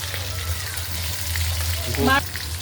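Chopped onion hitting hot oil in a wok, giving a loud, steady sizzle with a brief burst of sound near the end.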